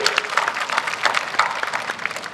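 An audience at a village dayro gathering breaks into dense, steady applause, many hands clapping together close and loud throughout without a break.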